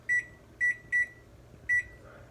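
A microwave-style oven timer gives four short, high electronic beeps in an uneven rhythm as it is set for a bread pre-bake, each one clear and close above a quiet kitchen background.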